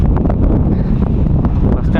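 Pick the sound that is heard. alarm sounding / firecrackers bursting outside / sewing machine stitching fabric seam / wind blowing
wind blowing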